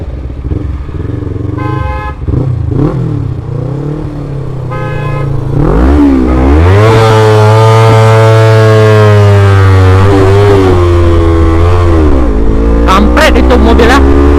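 A car drives past a motorcycle in heavy rain and wind, heard as a loud rising engine roar that swells close by and holds under heavy wind noise, with a brief horn toot near the end and people talking over it.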